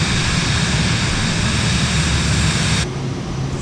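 A Cirrus SF50 Vision Jet G2 in Microsoft Flight Simulator gives a loud, steady engine roar during a climb, broadband and continuous, with the higher hiss cutting out near the end while a low drone remains.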